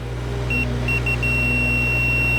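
A faulty Dometic refrigerator emits a series of high electronic beeps, two short ones followed by a long sustained tone, over a loud steady motor hum.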